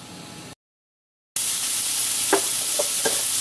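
Chicken pieces with skin frying in their own fat with garlic in a pan, no oil added, give a loud, steady hiss after a brief silent gap, with a few soft stirring knocks.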